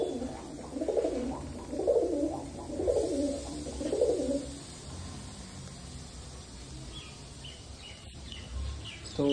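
Pigeons in a breeding loft give a run of soft, low, rolling coos, four or five close together in the first half, then fade into quiet loft ambience with faint background sounds.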